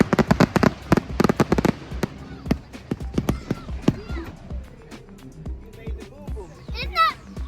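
Fireworks at an outdoor display pop and crackle in a fast, loud burst of rapid bangs. The bursts thin out into scattered cracks while excited children shout and chatter nearby.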